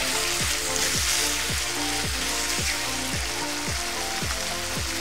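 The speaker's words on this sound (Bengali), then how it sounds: "এটা দিয়ে মশলাগুলো আমি একটু কষিয়ে নিচ্ছি।" Spices sizzling in hot oil as they are sautéed for a spicy beef curry with beetroot: a steady, close frying hiss runs throughout, with a faint, regular stirring or scraping rhythm beneath it.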